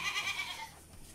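Male goats on a goat fattening farm bleat in a rapid quavering run, loud and close, fading out into quiet barn ambience near the end.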